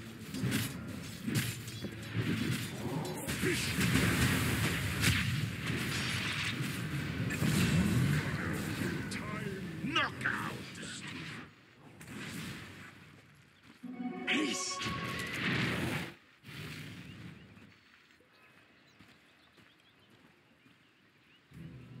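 Dota 2 combat around a mid-lane tower under attack, with Tusk fighting: dense, loud crashing impacts and thuds for about eleven seconds, then sparser, separated hits with short quiet gaps.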